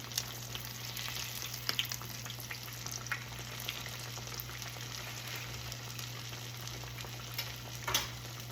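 Potato and cheese tortitas frying in oil in a pan, a steady, quiet sizzle with crackling pops, one louder spatter near the end, under a constant low electrical hum.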